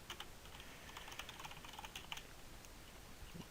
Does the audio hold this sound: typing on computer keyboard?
yes